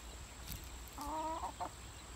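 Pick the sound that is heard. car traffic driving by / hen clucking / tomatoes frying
hen clucking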